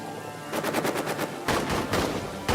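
Machine gun fire from a crew in the trench game All Quiet in the Trenches: loud, rapid bursts of shots hammering in quick succession, with a short pause between volleys and no talk.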